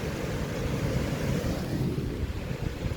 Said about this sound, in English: It's windy and it's warm out, but with the wind it's kind of chilly